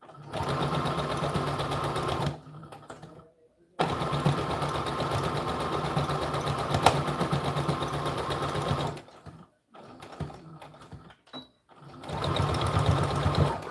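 Sewing machine stitching and backstitching a sleeve on a doll dress, steady whirring runs close up that stop briefly several times before starting again.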